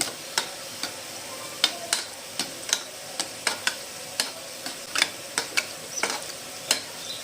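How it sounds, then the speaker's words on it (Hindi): A spoon stirring gulab jamun frying in hot oil, with repeated sharp metallic clinks against the pan at an irregular pace over a faint steady sizzle, close and alone with no talking. "मैं इसको चम्मच जो है वो सिर्फ इस तरीके से चलाती जा रही हूँ ऊपर ऊपर से"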